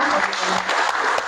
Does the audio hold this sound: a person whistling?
no